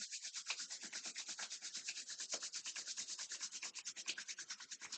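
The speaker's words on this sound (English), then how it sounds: "Rub the palms one more time." Palms rub briskly back and forth during a yoga session, a quiet, close rhythmic swishing in fast regular strokes that continues throughout.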